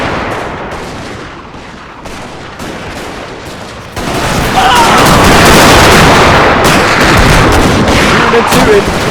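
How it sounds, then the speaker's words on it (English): Musket volleys and artillery fire in a Total War game battle recreating the 1861 Battle of Bull Run in the American Civil War, with dense, continuous crackling gunfire and booming cannon, growing louder and fuller halfway through, with speech faint underneath. "They are shooting and tooting."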